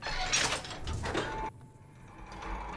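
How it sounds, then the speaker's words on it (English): A door opening in the video game Fallout New Vegas, in the Nellis area: a loud mechanical sliding scrape lasting about a second and a half, then cutting off sharply into a quieter hum. "Door's here, though."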